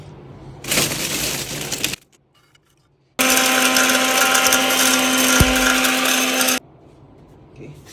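An electric grinder pulverises dried herbs into powder for a traditional Yoruba cough remedy, running in two loud whirring bursts separated by a short pause, the second longer and steadier.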